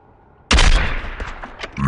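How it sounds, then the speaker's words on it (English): Gunfire in the Call of Duty DMZ video game opens with a sudden loud blast and continues in a dense, rattling run of shots, close and harsh, with no speech. "He's shooting up."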